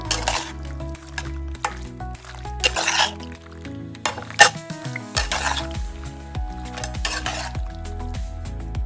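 Creamy pasta being stirred in a pan right after chilli flakes go in, with steady sizzling and repeated clinks and scrapes of a utensil against the pan, close and fairly loud, with no voices.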